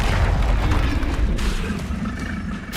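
Confringo fire spell exploding in the Hogwarts Legacy video game, a loud continuous booming blast with rumbling low end that fills the moment and fades slightly near the end.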